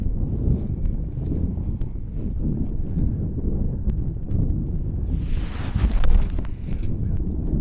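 Wind blows steadily across a hilly golf course, a continuous low rushing roar with buffeting against the microphone and a gustier swell near the end.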